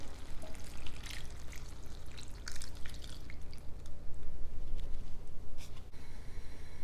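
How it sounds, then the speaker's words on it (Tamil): Masala water is poured into a pan of banana leaf brinjal gravy, with an irregular splashing, trickling flow and scattered drips, close and fairly quiet, with no talking. "இந்த மசாலா வாட்டரை ஆட் பண்ணிக்கலாம்."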